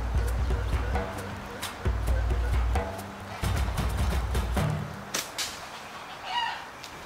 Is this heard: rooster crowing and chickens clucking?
yes